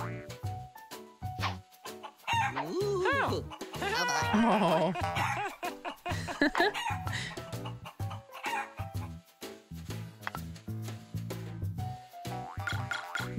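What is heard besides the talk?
chicken crowing and clucking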